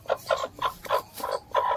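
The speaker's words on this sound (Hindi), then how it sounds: "हमारी मुर्गी अंडा देने बैठी है" A farmyard hen settling down to lay an egg clucks in a rhythmic series of short, close calls, about six or seven bursts spaced roughly a fifth of a second apart, with no talk.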